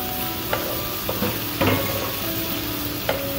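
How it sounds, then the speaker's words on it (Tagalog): Onion sautéing in oil left from frying round scad for sarciadong galunggong, a steady sizzle punctuated by several clicking spatula stirs against the pan, close and fairly loud, with no talk. "Pwede na natin ilagay yung sibuyas. Igisa na tayo mga abe."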